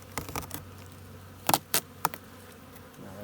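Honey bees in an opened hive box give off a faint, low, steady buzz, with a few soft knocks and clicks as frames are handled.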